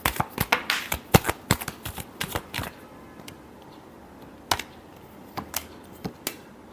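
Tarot cards are shuffled by hand in quick bursts of crisp riffles and slaps, pausing briefly before a few more sharp snaps, close and with no talk.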